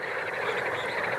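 Countless frogs croak in a dense, continuous chorus of mating calls across the wetlands of the Danube Delta, a steady, buzzing wall of sound with no voices over it.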